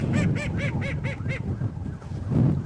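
A call duck gives a quick run of about six loud, nasal honking quacks close by, pauses briefly, then starts another call at the end.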